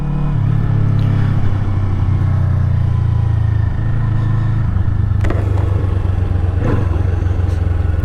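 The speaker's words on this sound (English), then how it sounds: "So it's a little more of a revy motor," Kawasaki Eliminator motorcycle engine idling and revving close by, a loud steady low drone with brief throttle blips, no talk over it.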